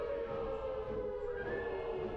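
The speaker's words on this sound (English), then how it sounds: "There's the sirens." Sirens in the video game Forlorn Hope, a faint, steady wailing tone that holds and then slides upward over a dense low rumble, heard alone without voices.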